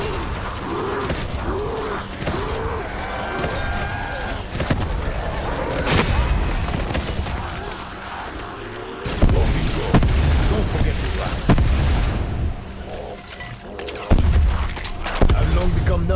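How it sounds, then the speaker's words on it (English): Game explosions in Voyage of Despair: repeated booms and bangs scattered throughout, some heavy and low, mixed with mechanical clatter and game effects, with a voice speaking at times over the noise. "I've long become numb to the sound of explosions."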